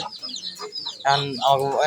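Chickens cluck close by in a yard on a rainy day, short clucks and murmurs in an uneven rhythm, growing louder and busier toward the end.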